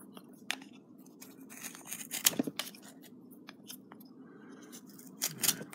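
A knife carving and scraping into wood while shaping a carved face, giving close, irregular dry scrapes and short cuts with a couple of sharper strokes, no talking.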